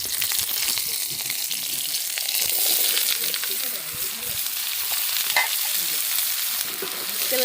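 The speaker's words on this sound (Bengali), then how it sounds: "তেলে লঙ্কা দিয়ে দিয়েছি," Green chilies sizzle loudly in hot oil in a pan on a clay stove, with continuous spattering and scraping of stirring close by.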